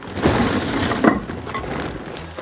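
Large chunks of Kamado Joe Big Block lump charcoal tumbling into a kamado grill, a close clattering burst of hard, glassy clinks and cracks.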